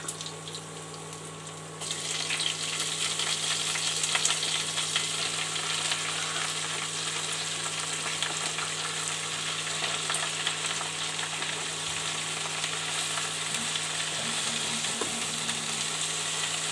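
Pumpkin greens hitting a pan of fried garlic set off a loud, steady sizzle that swells after a quieter opening and keeps crackling evenly, with faint stirring scrapes and no voices.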